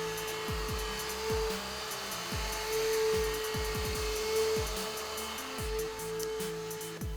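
A DIVEDEER YTK 334 window-cleaning robot runs its vacuum, a steady, faint high whine with a buzzing motor drone and repeated soft clicks as it works.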